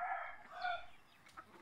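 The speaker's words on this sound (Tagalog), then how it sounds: "So, buhi-buhi mi ginagmay og manok." A rooster among backyard chickens crows once, a clear, fairly close call with a rising and falling drawn-out tone and no one speaking.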